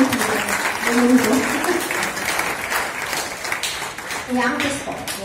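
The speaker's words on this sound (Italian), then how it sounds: "Accogliamoli con applauso per come ci sentite." Audience applause at an Italian press conference greets an arriving guest, a steady mid-level round of clapping with a voice speaking over it at the start and again near the end.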